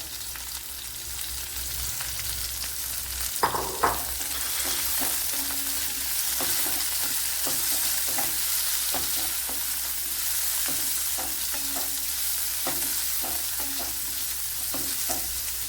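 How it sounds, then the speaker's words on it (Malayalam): Shallots sizzling in hot oil with browned garlic in a pan, a steady close frying hiss throughout with occasional stirring clinks and taps. "കുഞ്ഞുള്ളി ഒന്ന് നല്ലതുപോലെ ഒന്ന് വഴണ്ട് വരണം"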